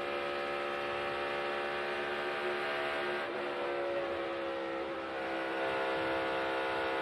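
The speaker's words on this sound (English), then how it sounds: "you can hear Kurt Busch's throttle there. A lot of wide open throttle around this track" Kurt Busch's NASCAR race car runs at wide open throttle around the track, holding a steady, loud, sustained engine drone with a slight pitch shift midway. No voices are heard.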